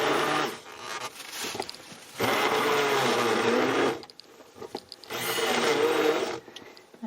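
A blender whirs loudly while mixing a drink of unsweetened cacao powder with a little syrup, running in two long bursts with a short pause between them.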